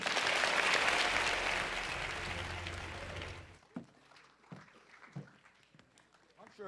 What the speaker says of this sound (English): I'm sure Professor Duckworth appreciates the applause.